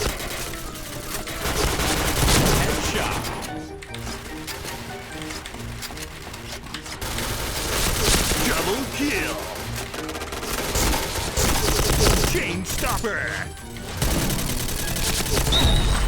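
A K2 rifle fitted with a grenade launcher fires in the Point Blank shooter game, loud sustained bursts of automatic gunfire with brief pauses over dense game noise, close and continuous.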